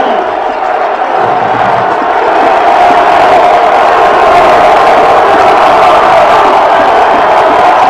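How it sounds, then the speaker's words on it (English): A packed high school football stadium crowd at a Massillon game roars loudly and continuously, swelling after a brief quieter start into a sustained wall of cheering and yelling. "Listen to this crowd."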